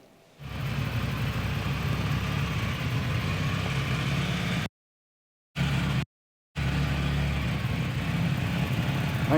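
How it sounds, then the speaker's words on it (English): A 1987 Chrysler Conquest turbo engine idles steadily and close by, a continuous rumbling drone with turbo whine. The sound cuts out briefly twice partway through. "You definitely hear the turbo."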